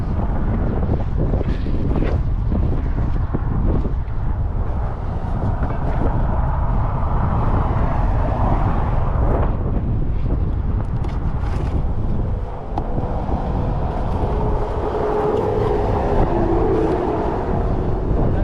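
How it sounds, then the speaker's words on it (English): Strong wind buffets the microphone in a constant low roar, with gusts swelling and fading throughout and no voices. "It's so windy, it's blowing the freaking box."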